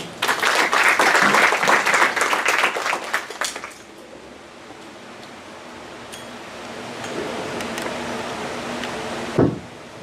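Loud, dense applause from an audience at a university criminal studies conference fades out after about four seconds, leaving a quiet room hum with a brief bump near the end.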